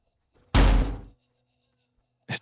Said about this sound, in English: That's when I heard a loud bang.